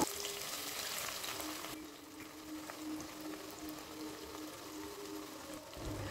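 Chopped onions fry in hot oil with whole spices such as cinnamon, cardamom and nutmeg, a faint, steady crackling sizzle that softens slightly after the start.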